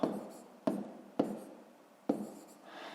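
Pen or marker writing a maths inequality on a surface: four sharp stroke onsets, each trailing off into scratchy rubbing, close and fairly quiet with no voices.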